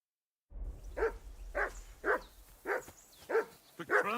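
A dog in Kingdom Come: Deliverance II barks in a regular series of about seven sharp, close barks, roughly half a second apart, after a brief silence, with a low rumble underneath.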